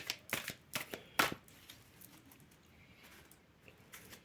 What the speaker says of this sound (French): Je tire que 13 cartes cette fois-ci.